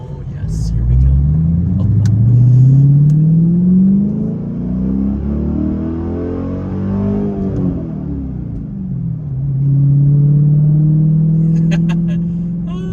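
A Dodge Challenger SRT8 engine revving hard up against the rev limiter, a loud, close roar that sweeps up and down in pitch in repeated surges, with speech faintly present.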